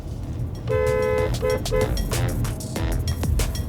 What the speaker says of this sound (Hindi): आप ज़रा हॉर्न तो बजा के दिखाओ